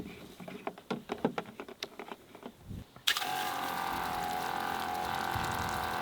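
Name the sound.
camp shower water running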